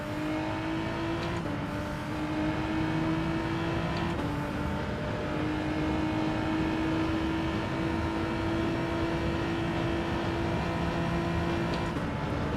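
Sustained, loud car engine from a racing video game time trial, revving high and holding a steady pitch that climbs gradually, with a brief dip near the start as the driver works through the lap alone without talk.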